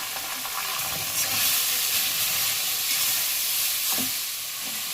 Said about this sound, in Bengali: একটু ধরে ধরে ভাজতে হবে